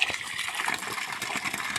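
Continuous rushing and splashing water, close by and fairly quiet, running steadily throughout with no speech.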